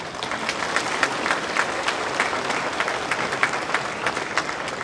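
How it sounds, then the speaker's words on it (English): At a Hmong American freedom celebration honoring veterans, an audience breaks into applause, a steady crowd of claps of moderate loudness with a few sharper individual claps standing out over several seconds. "Please give them a round of applause."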